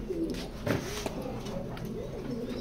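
A racing pigeon coos in a pigeon loft with a soft, low, throaty call rising and falling, close by but quiet, with no voices.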